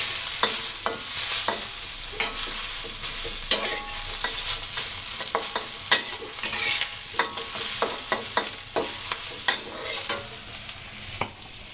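Mushrooms stir-fry in a hot pan for shrimp lo mein, with a steady sizzle broken by frequent sharp scrapes and clacks of a utensil tossing them, close and with no voices.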